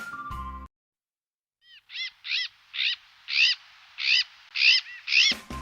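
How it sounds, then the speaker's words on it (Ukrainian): After a brief silence, an owl calls in a steady series of about eight short, hooting notes, evenly spaced and growing slightly louder. "сова пухає."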